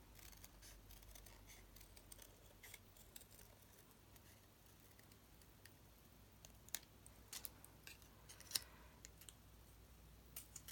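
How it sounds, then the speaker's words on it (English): Quiet, close snipping and clicking of sharp scissors cutting paper, the small crisp cuts coming irregularly over a faint steady hum. "Obviously you always need to use sharp scissors for doing this sort of thing."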